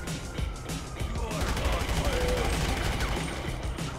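Grand Theft Auto 5 gunfire crackles in a dense, continuous barrage of overlapping shots, fairly loud and steady across the whole stretch, with a faint whine from the game running beneath.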